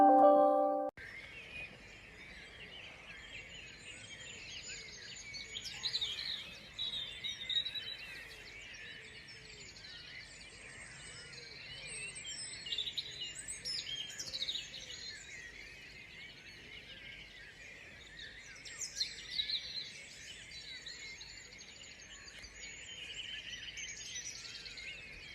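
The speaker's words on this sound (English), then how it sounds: "So this is the sound of the birds outside my window every morning here in the Cotswolds." A morning dawn chorus of birds outside a window in the Cotswolds: many overlapping chirps and trills, moderately distant, over a steady background hiss.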